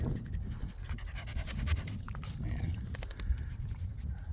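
A dog pants steadily and close by outdoors on a mountain trail, rapid breaths running throughout with light ambient noise and a faint voice in the background.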